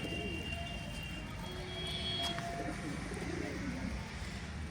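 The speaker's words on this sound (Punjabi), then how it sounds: "ਹੁਣ ਕਬੂਤਰ ਵੀ ਕੁਝ ਬਾਹਰ ਛੱਡੇ" Pigeons at a pigeon club loft in Tarn Taran coo in soft, low burbles that blend into a constant background hum, with a few faint chirps and scattered noises throughout.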